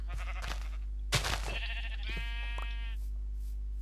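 A sheep bleats in the video game Minecraft, giving a few clear, wavering bleats in a row, close and moderately loud over a low steady hum.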